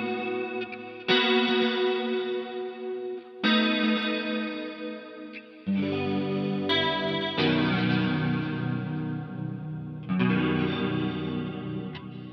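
Guitar chords ring through a Mooer GE200 multi-effects processor set to a modulation effect, with a swirling chorus-like shimmer. Several sustained strummed chords come in with clean, wide decays and no talking.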